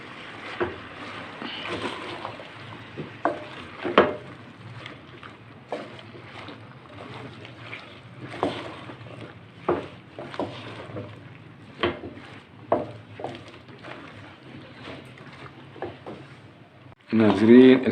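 Tinda and potato pieces are stirred together in a cooking pot, producing repeated soft scrapes and wet knocks at an uneven rhythm, close by, ending in a louder burst of clatter.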